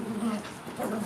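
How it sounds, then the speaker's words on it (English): Small Chihuahua and a big dog playing together, with a short whimpering, whining dog sound held steady across about a second, fairly close and moderately loud with no speech. "Finn, my Chihuahua is hanging off our big dog's mouth."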